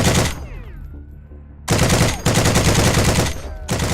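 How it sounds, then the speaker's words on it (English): Loud bursts from a US M1919 machine gun in the video game Heroes and Generals, long sustained rapid fire broken by a brief pause with trailing echoes, close and heavy. "the US M1919 machine gun"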